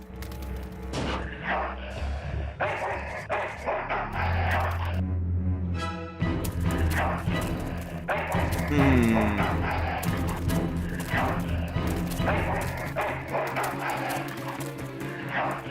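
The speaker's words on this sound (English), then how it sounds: "Down. Bad dog." A dog barks in the Full Throttle video game, the barks mixed into dense game music and effects with booming, gunfire-like hits throughout.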